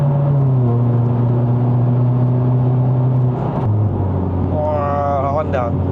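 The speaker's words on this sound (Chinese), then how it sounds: "看它的转速，它还在拉，它还不要升档，还不要升档" Mercedes-Benz C180 AMG Line (W205) engine revving hard under acceleration on a test drive in Malaysia, a steady climbing drone that drops abruptly at a gear change, then a rising whine; a person talks over it.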